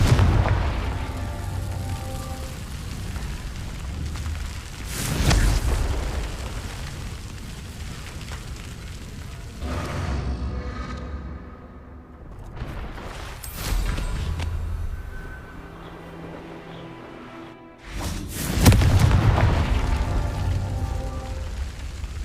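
Confringo blasting spells explode in the Hogwarts Legacy video game, with several loud booming blasts separated by rumbling, crackling battle noise.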